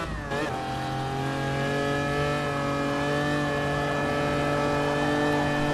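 A Lancia Stratos rally car engine in the video game GT Sport drones loudly at high revs, its tone holding steady and rising slightly after a brief gear shift near the start.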